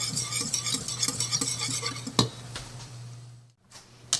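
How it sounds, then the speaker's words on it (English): Boiling water poured into a pan of melted butter with the heat off, then stirred, giving rhythmic metal scraping and liquid swishing, close and clear, ending with a brief splash. "I'm going to grab my boiling water and pour that in"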